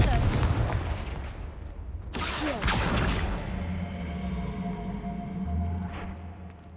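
Confringo blasting spells go off in Hogwarts Legacy, with a sharp, loud explosive crack around the middle and another burst near the end, each trailing into rumbling debris and whooshing over a busy combat background.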